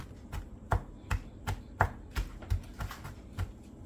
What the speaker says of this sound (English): Yeah, mince it up, just play with it with a knife back and forth.